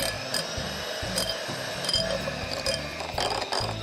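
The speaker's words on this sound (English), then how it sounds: "I have about half a cup of cream cheese that I'm going to quickly whisk up till it's nice and smooth" About half a cup of cream cheese is whisked in a bowl until smooth: quick, rhythmic strokes with a repeating clicking, scraping beat, fairly close and steady throughout.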